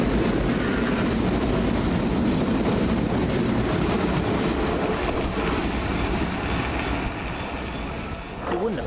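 A London Underground Piccadilly line train to Cockfosters passes Stamford Brook with a loud, steady rumble and rattling wheels that ease slightly toward the end, with voices briefly audible over the noise.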